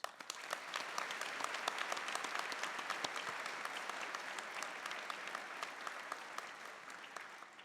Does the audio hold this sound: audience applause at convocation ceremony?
yes